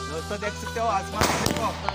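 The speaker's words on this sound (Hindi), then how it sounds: "दोस्तों देख सकते हो कितना बड़ा बम विस्फोट हो रहा है" Firecrackers explode in the sky with two sharp, loud booms in quick succession near the end, after a stretch of someone talking excitedly.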